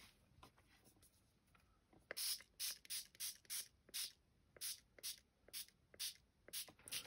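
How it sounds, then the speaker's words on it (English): A handheld spray bottle spritzes over a flower craft piece, with a series of about a dozen short, crisp, close hissing bursts in a quick irregular rhythm, preceded by faint clicking of the trigger. "So let's have a spritz first."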